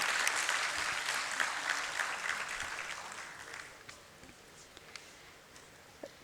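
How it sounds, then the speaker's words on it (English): An audience at an International Literacy Day ceremony gives a round of applause that starts full and loud, then gradually thins into scattered individual claps as it dies away. "Huge round of applause, ladies and gentlemen"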